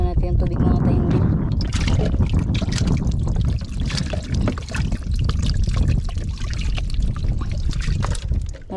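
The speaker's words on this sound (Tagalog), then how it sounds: "Buksan muna natin yung tubig" Water is turned on and pours out in a loud, steady gush with splashing and a noisy, broad rush that lasts throughout, while voices talk over it.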